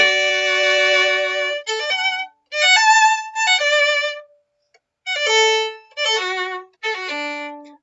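Opening theme of Beethoven's Opus 12 No. 1 violin sonata: bright, sustained melodic phrases in alternating groups, a question-and-answer shape with clear pauses between phrases, played alone without talk.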